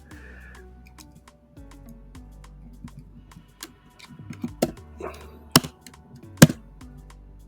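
Keystrokes on a computer keyboard entering an install command, light taps scattered through the first half, then a few sharper, louder clicks toward the end, close by with no talking.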